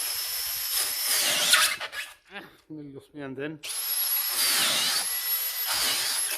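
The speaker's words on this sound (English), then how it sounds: "but you basically drill lots of holes" A power drill bores holes into a SIP house wall panel, whining loud and close in two long bursts, with someone speaking briefly in the pause between them.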